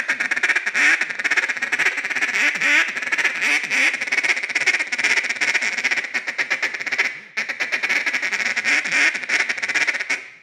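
A duck call blown in mallard style, layered into a dense, continuous run of raspy quacks and chatter that sounds like a whole flock of mallards, loud and close, with a short dip near the end before the calling resumes.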